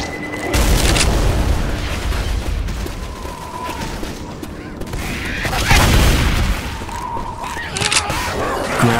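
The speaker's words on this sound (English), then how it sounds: "Grabbing a pipe bomb. Fire in the hole!" Pipe bomb detonating in Left 4 Dead 2, a heavy booming blast among ongoing gunfire and chaotic game noise, loud and close, with a few voice callouts mixed in.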